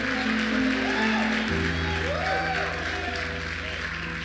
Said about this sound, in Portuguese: Aplauda Jesus pelo diácono, pelos músicos, pelos pastores auxiliares, os titulares, líderes de célula